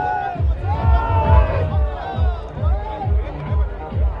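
A crowd of party workers and supporters gathered at a home for a Holi celebration, a loud, lively babble of many voices with rhythmic chanting or clapping-like bursts recurring across the whole stretch.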